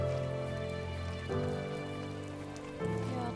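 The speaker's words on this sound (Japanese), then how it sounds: "今度はこれは雨が降ってるのかな。" Steady rain falling in the video game The First Tree on Switch, a continuous even wash of drops with a tonal music bed running underneath and no voices.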